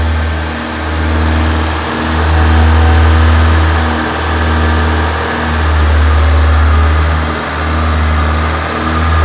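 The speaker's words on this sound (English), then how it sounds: "on a diesel engine, the propellant in the can will actually increase the revs" A loud diesel engine revs up and eases back in a steady cycle, about every two seconds, with a deep, close rumble throughout, during a carbon clean.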